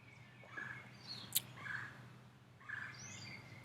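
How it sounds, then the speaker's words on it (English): Several faint bird chirps come from a distance, spaced apart over quiet outdoor background noise. "Hoping you can hear that birds"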